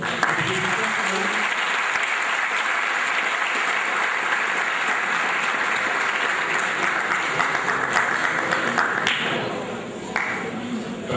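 Sustained, loud applause from students in a hall at a polytechnic school solidarity day, dense and continuous before thinning near the end, with voices mixed in.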